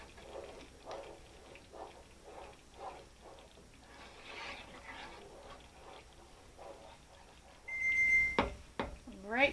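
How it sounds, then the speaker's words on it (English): A kitchen timer goes off at the stove while grits cook, a short high steady beep tone near the end rising above a voice talking throughout and quiet bubbling. "Alright, there's my timer."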